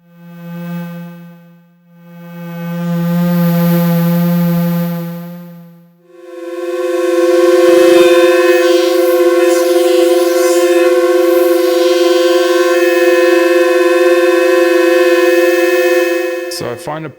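Sustained wavetable synthesizer oscillator tones with rich harmonic stacks, a low buzzy note shifting to a brighter, swirling sound that holds steady, then cuts off.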